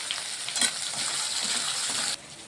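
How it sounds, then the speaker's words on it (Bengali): Capsicum frying in a hot pan with a little salt, a steady close sizzle and crackle running throughout, with a brief clink near the start and the sizzle dropping quieter toward the end. "ক্যাপসিকামটা দিয়ে দিলাম ক্যাপসিকামটা ভেজে নিচ্ছি"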